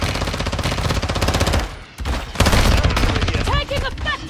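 Heavy gunfire in Call of Duty DMZ, dense rapid automatic bursts in loud sustained volleys with a brief pause before firing resumes, close and intense over game noise.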